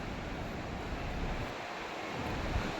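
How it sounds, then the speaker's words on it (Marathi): A constant roaring rush of water from Kalu Waterfall at Malshej Ghat, broad and steady like a distant waterfall, with wind buffeting the microphone. "जोरात खाली कोसळतो आहे आणि समोरच आपल्याला हा काळू वॉटरफॉल दिसतोय"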